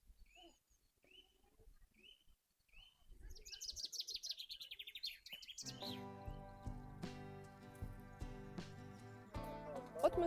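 Birds chirping in a park in Truskavets, with brief high tweets that come and go, then a denser stretch of calls over a busier, louder background of outdoor noise.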